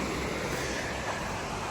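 Steady broadband rush of creek water flowing beside a forest trail at Lick Creek in Daniel Boone National Forest, an even, continuous wash with no talking.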